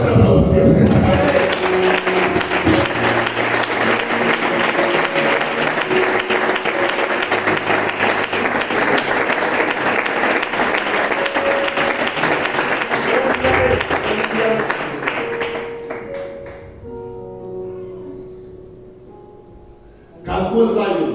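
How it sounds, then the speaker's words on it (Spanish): A church congregation at an afternoon service at La Felguera applauds loudly and steadily for about fifteen seconds. The clapping then fades and gives way to voices and a tonal, music-like passage. "Un aplauso a Dios en esta tarde."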